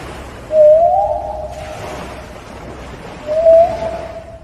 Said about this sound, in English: gray whales communicate through systems of clicks, grunts, and whistles